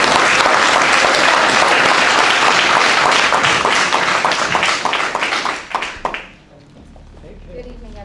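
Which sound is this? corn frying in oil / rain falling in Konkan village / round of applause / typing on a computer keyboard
round of applause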